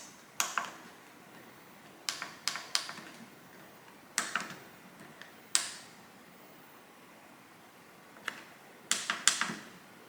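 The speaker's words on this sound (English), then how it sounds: "you can use either one of those keys and the arrow buttons to override it." Plastic buttons on the control panel of a Ninja Double Stack air fryer click sharply, in scattered single presses and quick pairs, close and alone in a quiet kitchen.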